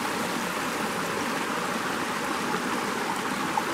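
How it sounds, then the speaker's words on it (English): Two small streams join above a little cascade in a mossy off-trail forest in Bankhead National Forest, Alabama, giving a steady, close, rushing trickle of water with no voices. "Up above that last little cascade, two little streams are joining in here."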